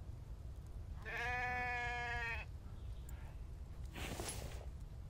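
A single sheep in The Infected survival game lets out one clear, drawn-out bleat, followed by a shorter sound a moment later, over a low steady background rumble.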